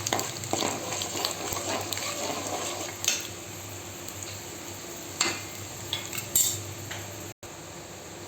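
Cumin seeds and ajwain frying in a pan with a steady, fine sizzle, broken by a few light clinks of a spoon or spatula against the pan.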